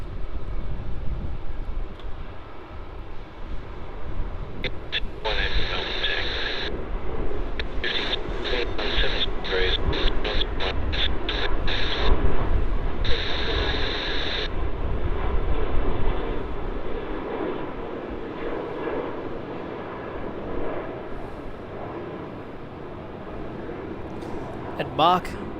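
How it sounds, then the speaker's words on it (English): Jetstar Airbus A321-200 departing Melbourne Airport for the Sunshine Coast, a steady broad jet engine roar holding throughout under bursts of radio chatter and someone talking. "On departure now, we have Jetstar flight JQ794, and this is the Airbus A321-200 going to the Sunshine Coast"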